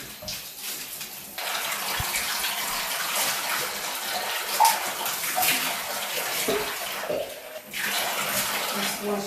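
Water runs steadily into a bathtub to rinse it after a baking soda and vinegar scrub, a close, continuous splashing rush that briefly eases and returns.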